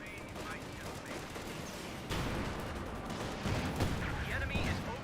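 In Company of Heroes 2, crackling gunfire from a World War II skirmish plays under a commentator's voice, with a dull grenade blast partway through and steady battle noise throughout.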